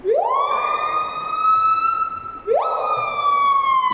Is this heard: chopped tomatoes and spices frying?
no